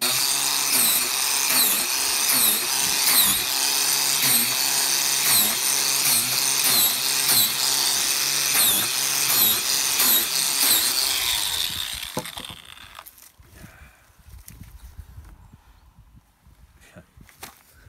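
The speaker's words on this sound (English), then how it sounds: "We'll use the same angle grinder attachment." An angle grinder attachment breaks up oyster mushroom sawdust spawn with a loud, steady, close mechanical whirring and rattling for about twelve seconds, then stops, leaving faint scattered knocks and shuffling.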